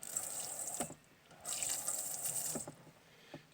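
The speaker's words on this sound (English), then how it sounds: "on the other end I have a little sink sprayer, and the copper pipe slips over it" Little sink sprayer fitted with slip-on copper pipe in a homemade car camper, spraying water in two hissing bursts separated by a pause, close by, with faint drips and clicks between the bursts.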